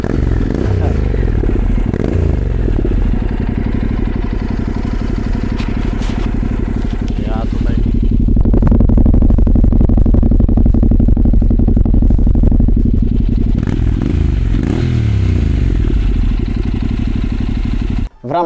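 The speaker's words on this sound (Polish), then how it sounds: "weźmy go sobie, odpalmy, bo ten tłumiczek to naprawdę mnie jara" Honda NC 700 S motorcycle fitted with a GPR exhaust, running close by with a loud, throaty, rumbling idle that rises briefly in the middle, then cuts out abruptly at the very end.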